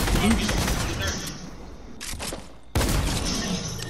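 Rapid bursts of gunfire in a video game shooter fill most of the clip, loud and dense, with a brief lull before a sharp burst resumes. Voices talk over the action.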